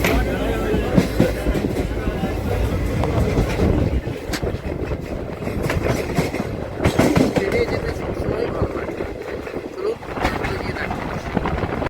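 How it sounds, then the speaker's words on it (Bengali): A local passenger train running from Rampurhat to Bolpur rumbles steadily from inside a carriage, with rattling wheel clatter and wind noise and people talking nearby. "রামপুরহাট থেকে লোকালে আমরা এখন বোলপুরে যাচ্ছি।"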